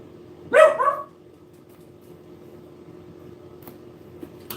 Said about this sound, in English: That's him barking.